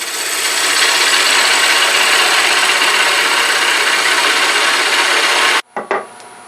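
Wood being turned down on a lathe for a miniature Christmas tree, a loud, steady broadband cutting rasp that runs unbroken for several seconds before stopping abruptly, followed by a couple of brief scraping touches.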